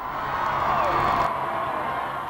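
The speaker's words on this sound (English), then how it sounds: "Along Whitehall, the crowds were more numerous and vocal than ever." Crowds line Whitehall at a royal wedding, and their cheering comes as a dense, continuous roar of voices and whoops, fairly loud and sustained across the moment.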